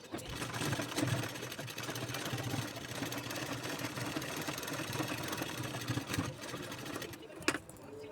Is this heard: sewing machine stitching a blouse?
yes